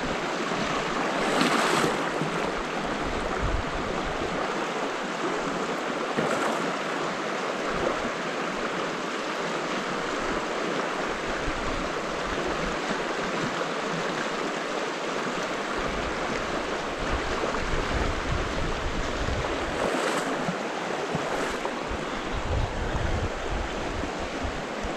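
Swirling river water in a brown trout stream rushes steadily for the whole stretch, close, loud and unbroken, with no talk over it.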